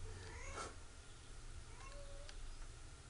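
Cats meow in the video game Guild Wars 2, a few short mewing calls set against a noisy low hum of game ambience, fairly faint, with no voices.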